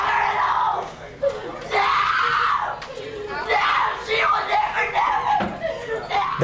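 A woman screams in a courthouse right after a murder verdict, loud, long, rising wails repeated several times over the noise of a crowd, with other voices shouting nearby.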